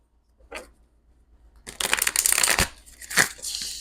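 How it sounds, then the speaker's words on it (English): A tarot card deck is riffled and shuffled close up, a faint flick first, then a loud rushing ripple of cards followed by sharp snaps and further shuffling, with no talking. "This deck, I wasn't expecting it to shuffle like that."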